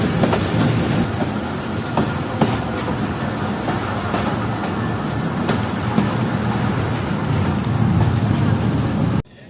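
A passenger train departs Dumel railway station, heard from inside the last coach, with a steady rumble, rattling and rhythmic wheel clicks on the rails continuing throughout.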